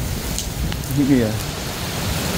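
Heavy rain pours during a storm in Mecca as water begins to flood the ground, a steady hiss of rain on surfaces throughout, with someone speaking briefly over it midway.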